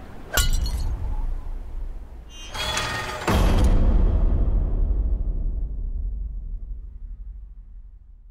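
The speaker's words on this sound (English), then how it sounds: "on the stones in front of you shatters a kitty cat mug" A ceramic mug shatters loudly on stones, a sharp crash followed by a second breaking burst and scattering fragments settling into a long fading rumble.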